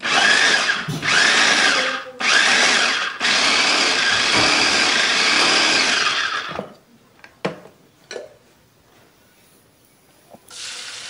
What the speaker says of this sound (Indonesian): bikinnya dalam jumlah banyak juga bisa pakai chopper kayak gini biar lebih praktis